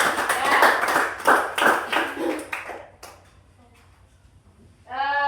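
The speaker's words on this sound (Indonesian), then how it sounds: "Tepuk tangan buat kelompok 2." Pupils in an elementary school classroom clap for a group of classmates in a lively burst that lasts about three seconds and then fades to quiet. A voice starts speaking at the very end.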